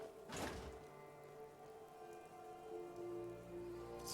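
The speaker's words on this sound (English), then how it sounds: "And it's raining." Rain patters steadily on surfaces in the video game Fallout 4, a faint, even wash with a soft thud near the start.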